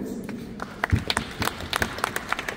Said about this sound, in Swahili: Naomba tupigie makofi yake.